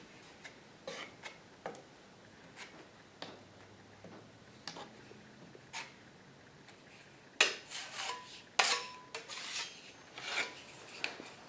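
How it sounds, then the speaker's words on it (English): Spackle is spread over a drywall hole patch with a spackling knife: soft, sparse rasping scrapes at first, then a run of louder, closer strokes near the end, with no talk. "We go over it like that, and we just spread it down like this."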